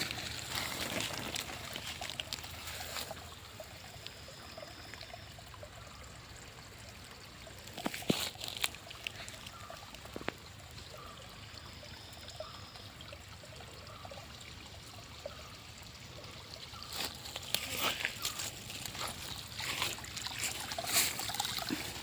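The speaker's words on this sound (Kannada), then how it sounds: "ಹಾಗೆ ಇಲ್ಲಿ ನೀರನ್ನು ಕೂಡ ಹಾಕ್ತಾ ಇದ್ದೇವೆ" Water poured by hand onto freshly sown vegetable seed rows in a sunny garden plot, a steady soft trickle and splash running throughout, fairly faint and continuous with a few sharper knocks midway and no talking.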